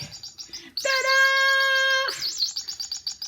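Electronic toy birds give a bright, sustained chirping trill lasting about a second, loud and close, bracketed by softer, rapid twittering chirps before and after.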